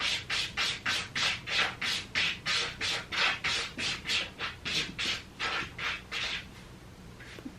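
A cat scratches in a litter box by a back door, a steady rhythm of about twenty quick gritty scrapes close by, fading slightly toward the end, with no talking.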